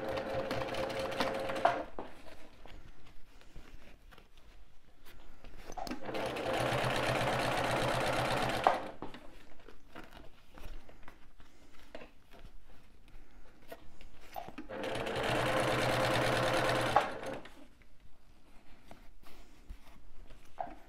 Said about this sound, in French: Hop, et je fais une petite surpiqûre